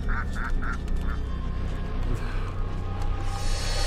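Ducks quacking and geese honking in a bird video game, a quick run of three to four close, loud quacks at the start followed by scattered calls over busy game noise.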